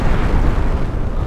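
A bomb goes off in a Roblox game as a loud, rumbling explosion that fills the whole short moment without any talk.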